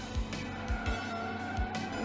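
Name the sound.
car drifting with tire squeal in video game Slipstream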